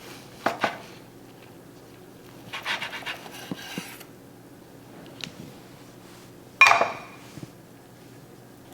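Knife slicing into a cooked half-pork, half-beef burger, with a few sharp scraping cuts and light clatter against a board or plate, close and fairly quiet.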